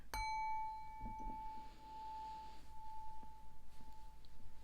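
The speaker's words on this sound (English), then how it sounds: "Shall we ring the bell, Gemini?" A single bell is struck once, giving a clear ringing tone that sustains and slowly fades over several seconds, quiet and alone.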